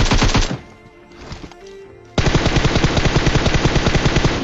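Rapid automatic gunfire from a PUBG match on the Erangel map, loud and close, with a burst at the start, a brief lull with scattered shots, then a sustained fast rhythmic volley to the end.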